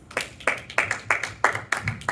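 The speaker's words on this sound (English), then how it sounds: "Everybody give him a round of applause." Several people clap in a loose, uneven rhythm, about seven sharp claps spaced across a couple of seconds, close and moderately loud, more like a small group than a full audience.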